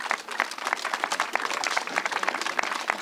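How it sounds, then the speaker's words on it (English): Audience applause at a skate park ribbon-cutting ceremony in Dubuque: sparse, steady hand-clapping from a modest outdoor crowd for three seconds, individual claps distinct, no talk over it. "Let's give them a round of applause,"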